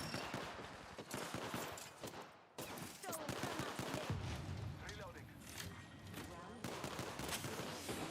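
Rapid bursts of gunfire from a battle royale shooter game, dense and continuous across the whole stretch with a brief dip near the middle, while a player talks over it.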